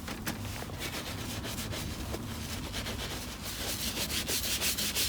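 Ugg boots are scrubbed gently all over with a brush during cleaning, giving a close, continuous soft scratchy rubbing with rhythmic strokes that grow slightly stronger toward the end.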